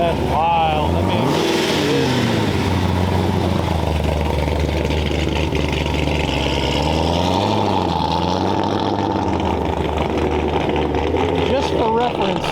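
Car engine at a car show, close and loud, with whooshy airflow and a choppy, lumpy idle that rises and dips across the clip, with a rev near the start and another at the end.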